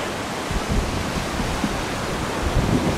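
Steady broadband roar of cold Pacific Ocean surf near San Francisco, with low rumbling swells, continuous and fairly loud, like waves washing nearby with wind.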